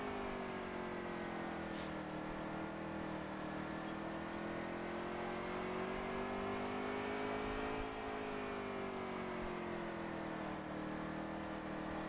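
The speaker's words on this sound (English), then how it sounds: "You can really hear the motor slowing down." A race truck engine in the NASCAR Heat 3 video game hums steadily and loudly throughout, its pitch sagging slightly and then rising again as the truck slows through corners.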